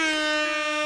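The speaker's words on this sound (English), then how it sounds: "I'm gonna throw out another air horn" An air horn sound effect blares as one loud, sustained, harmonically rich blast, close and alone, holding steady for just under a second.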